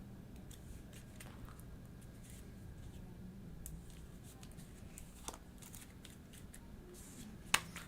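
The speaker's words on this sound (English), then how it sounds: "Shuffle up this discard pile." Discard pile of cards from a deck-building game being shuffled, soft papery riffles and flicks at a low level, with occasional sharper card snaps.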